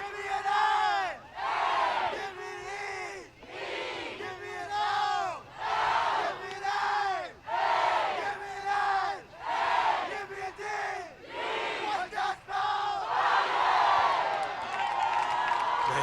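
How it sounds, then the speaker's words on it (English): Spectators at a girls high school soccer game cheer in rhythmic, chant-like bursts, roused by the boys soccer team, a loud crowd of repeated whoops and shouts with brief pauses between swells. "Nice job there by the Vineland boys soccer team, drumming up some cheers from the crowd"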